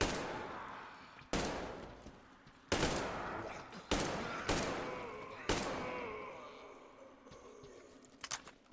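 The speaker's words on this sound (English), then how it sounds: "This is an AK." Several sharp, loud AK rifle shots in Metro Exodus, spaced irregularly, each with a long echoing decay in a dark interior, followed by a brief faint click near the end.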